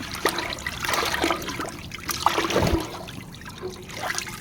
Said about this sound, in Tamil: நல்லா அந்த பூண்டு அப்படியே கலக்கி விட்டுருங்க